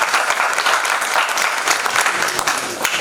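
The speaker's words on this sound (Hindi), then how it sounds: "एक बार जोरदार ताली से मैं चाहूंगा इनका स्वागत किया जाए।" Audience at a theatre drama event gives loud, sustained applause to welcome the chief guest, dense clapping filling the moment with no speech.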